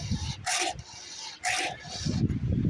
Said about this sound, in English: Make sure you're using a good file, a good cutting file.